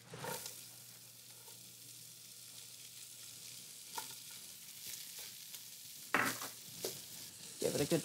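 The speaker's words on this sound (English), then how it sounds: "So now we've got the bacon rendering out all of this fat." Quiet, steady sizzle of bacon and onions frying in a pan as the bacon renders its fat, with a few louder stirring scrapes and pan clatters later on.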